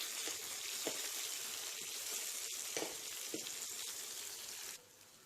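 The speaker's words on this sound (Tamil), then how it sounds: "சின்ன வெங்காயம் ரொம்ப பொன்முறுவலாலாம் வதங்க வேண்டியது இல்லைங்க" Steady sizzling as shallots fry in a pan for sambar, with occasional stirring clinks, close by, ending abruptly as the heat drops off.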